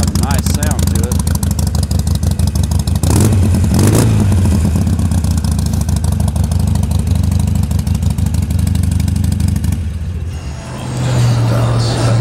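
A Harley Davidson Sportster 883 Low XL883L with upgraded mufflers runs with a loud, throbbing, close engine note, revving briefly and then settling toward idle. Someone talks over it.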